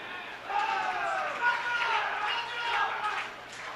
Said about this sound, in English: the cheering you hear is still from Singapore